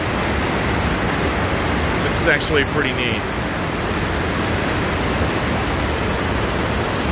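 A river flows through a rocky gorge with caves in Willow River State Park near Hudson, Wisconsin, making a steady broad rushing hiss throughout, while someone speaks briefly over the water.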